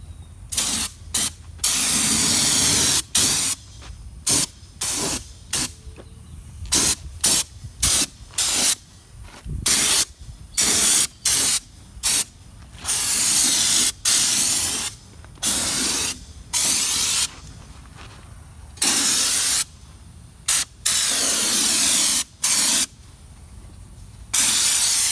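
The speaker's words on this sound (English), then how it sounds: "he's gonna go ahead and start spraying from right to left or left to right." A spray gun applying Raptor truck bed liner to a Suburban gives loud bursts of hissing spray that start and stop repeatedly, some long and some short, with a low mechanical hum between bursts.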